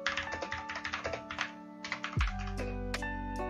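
Rapid typing on a computer keyboard, a quick run of close clicking keystrokes, then a steady low electronic hum takes over as the key taps thin out.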